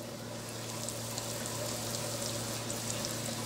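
Battered crappie fish sizzle and crackle in hot grease, a steady, dense frying hiss close up with no talking.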